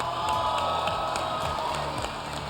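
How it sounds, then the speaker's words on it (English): Dudley family cheering section at a FLW Tour bass fishing tournament weigh-in on the James River, a steady wash of crowd cheers, whoops and scattered clapping, with some children's shouts mixed in. "The Dudley cheering section is cheering strong"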